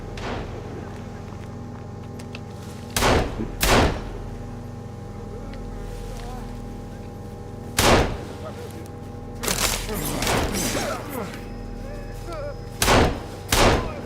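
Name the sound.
gunfire in video game Sons of the Forest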